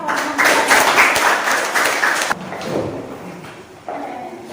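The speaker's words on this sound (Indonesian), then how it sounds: "Tepuk tangan." Classroom applause from students during a teacher-training lesson, a dense burst of clapping that fills the first half and then thins into scattered claps and room noise.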